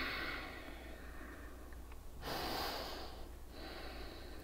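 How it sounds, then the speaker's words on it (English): Yoga breathing, slow audible inhales and exhales through the nose, faint and close under a steady background hiss, with one stronger breath in the middle; no talking. "Keep breathing."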